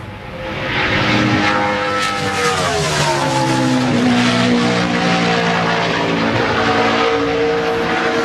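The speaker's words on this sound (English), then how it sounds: "Out on track right now, Eric Almirola." A NASCAR Sprint Cup stock car roars around the Homestead track during qualifying. The loud engine note rises and then falls in pitch as the car passes, sustained and with no commentary over it.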